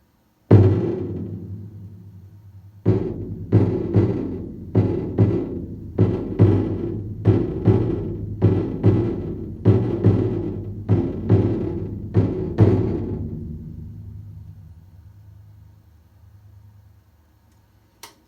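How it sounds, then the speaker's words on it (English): A handmade ceremonial Tarahumara drum from northern Mexico is struck with a single booming hit, then a steady run of about a dozen resonant beats, each ringing out with a deep, lingering decay that fades to quiet. "This drum is from the northern part of Mexico."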